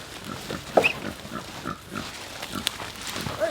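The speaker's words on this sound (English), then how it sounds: "Pigs in the woods!" Pigs being moved through a forest on a family farm grunt and snort in short, irregular bursts, some close and others farther off, with no talk over them.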